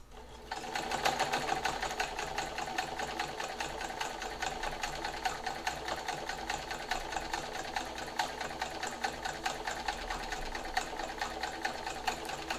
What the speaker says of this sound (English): the machine will work on straight stitch, but not on zigzag